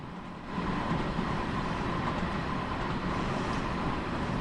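A coal train rolls past a level crossing, its steady, loud rumble and wagon clatter starting after a brief quieter moment and then filling the scene continuously, close by and with no voices.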